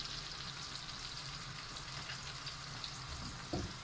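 Onions and courgettes fry in hot oil and melted butter in a pan, a steady close crackling sizzle that carries on evenly throughout with one brief stir near the end, with no voices.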